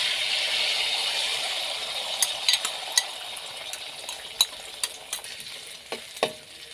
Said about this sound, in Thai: น้ำมันร้อนใส่ไข่ลงไปเจียวก่อนแล้วค่อยตามด้วยหอยนางรม